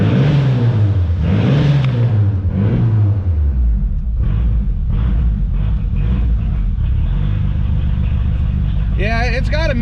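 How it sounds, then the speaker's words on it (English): A 1995 Mitsubishi Eclipse GST engine with a misfire revs up and down a few times, then settles into a lumpy, uneven idle with irregular thumps; a voice speaks briefly near the end. "It's got a decent misfire in it."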